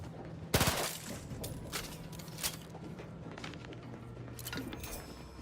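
Robots being shot in The Outer Worlds 2, a loud burst of gunfire near the start followed by scattered shots, impacts and footsteps against a busy game soundscape.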